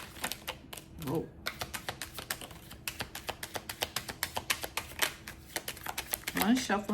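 A deck of tarot cards is shuffled in a rapid run of crisp, close clicking taps, with a voice speaking in places.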